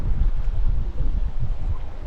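Wind buffets a fishing boat out at sea over wrecks and reefs, a low rumbling roar of gusts on the microphone with a dull engine-like undertone, steady and close.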